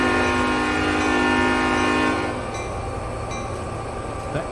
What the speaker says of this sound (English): That is a pretty decent horn.